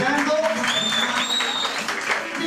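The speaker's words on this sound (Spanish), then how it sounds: "me regalan un fuerte aplauso a Isaac" Guests at a quinceañera celebration clap for Isaac, a brief steady round of applause with music and voices mixed in beneath it.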